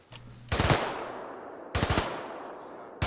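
Gunfire crackles in the military shooter game Arma 3: two loud, rapid bursts of automatic shots, each echoing and fading away, with a third burst starting right at the end.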